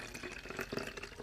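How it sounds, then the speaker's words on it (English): Filtered water poured by hand into a spray bottle without a funnel for a homemade pet spray, a short steady splashing trickle heard up close with no talking. "I'm just going to take my water. I'm probably going to spill a little bit because I don't have a funnel."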